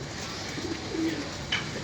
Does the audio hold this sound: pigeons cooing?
yes